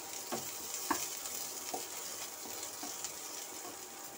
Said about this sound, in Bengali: এই রসুন কুচিটাকে ভালো করে ভেজে নিতে হবে।